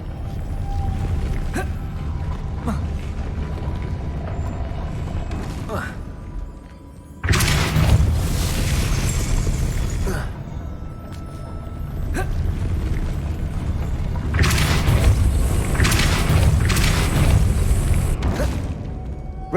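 A Depulso spell cast in the PC game Hogwarts Legacy lands as loud, broad whooshing bursts with creaking, mechanical grinding, rising twice over a steady game ambience.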